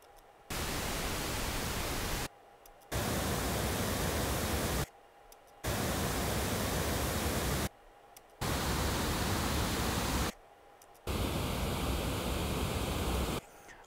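Broadband noise test signal from a Genelec 8331 loudspeaker heard 45 degrees off-axis, played as five steady bursts of roughly two seconds each separated by short silences.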